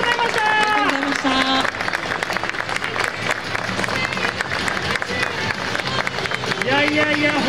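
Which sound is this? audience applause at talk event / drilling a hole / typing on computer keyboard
audience applause at talk event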